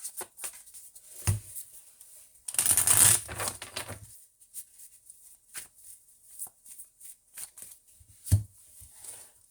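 Tarot cards are shuffled and pulled, with a loud riffling burst near the start and scattered soft taps and slides of cards close by.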